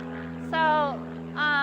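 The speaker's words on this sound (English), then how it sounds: "I'm going to wait for this plane." A steady low engine drone from an airplane passing overhead above a farm garden holds through the whole stretch, with two brief higher tonal sweeps rising over it.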